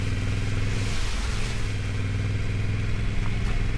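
A Yamaha Ténéré 700 adventure motorcycle revs hard and close while slipping through deep mud on a green lane, its engine surging and rising with clattering mechanical noise.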